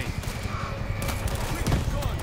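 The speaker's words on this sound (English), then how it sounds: "Stationary machine gun in position." Rapid machine gun fire in the zombie shooter World War Z, a dense rattling burst of shots mixed with game noise, with voices speaking over it.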